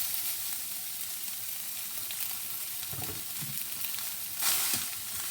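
Lean mince browns in a pan with Fry Light, giving a constant close sizzle. A few louder stirring knocks and scrapes come near the middle and toward the end.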